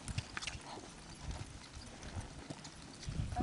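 Quiet, steady clip-clop of a horse's hooves trotting in an even rhythm during barrel training, somewhat distant, with faint background noise and no talking.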